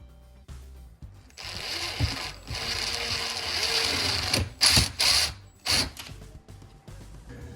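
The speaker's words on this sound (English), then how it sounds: "I've opted to drill a hole in the center and put these knobs on" A power drill bores holes into kitchen cabinet doors for knobs, with a sustained close whirring run followed by several short bursts and pauses.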